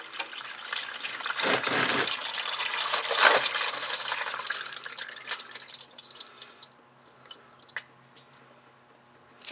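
Motor oil drains from a car into a drain bucket, a splashing liquid stream that starts strong, gradually thins, and ends in scattered drips, close and alone.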